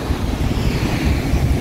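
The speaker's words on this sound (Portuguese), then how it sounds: "E aqui o mar." Sea waves wash onto the beach at Carapebus, a loud continuous roar of surf mixed with heavy wind buffeting the microphone, with no voices.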